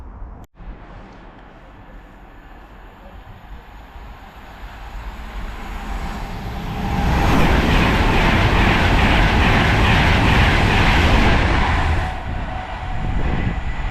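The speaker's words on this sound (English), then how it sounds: "passing there was an Avanti West Coast service" A low background rumble builds into a loud, sustained rush as an Avanti West Coast express passenger train speeds through a station, holding strong for several seconds before easing slightly.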